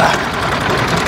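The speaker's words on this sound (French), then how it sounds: "on va démarrer le tracteur" A farm tractor engine runs at a steady, loud idle, its low rumbling throb continuous and close throughout with no talk over it.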